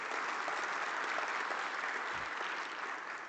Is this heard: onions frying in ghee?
no